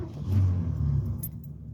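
A 1979 Lincoln's engine cranks and catches in a short burst, a low rumbling turnover heard close, with a faint jingle of keys.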